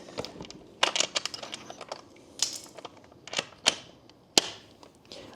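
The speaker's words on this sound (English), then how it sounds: "So we're going to go ahead and fold this bike back." An Aipas A2 folding e-bike is folded and its frame latched, producing a string of sharp metallic clicks and clacks in uneven bursts, close and fairly quiet, with no talk.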